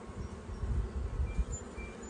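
Honey bees droning steadily around an opened backyard hive during an inspection, a low, dense buzz filling the air without a break.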